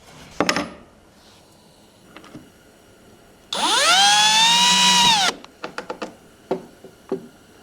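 A power drill drives into the cedar top rail of a raised garden bed in one loud, steady burst of about two seconds, set between scattered knocks and light handling of the wood.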